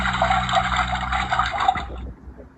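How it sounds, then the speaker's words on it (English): Recorded running water from a farm sound book, a steady pouring rush that cuts off near the end, leaving a quiet tail. "Yes, we should put water in the bowl."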